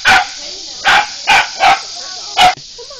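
Five sharp dog barks in an irregular burst, loud and close, followed by a faint voice at the end.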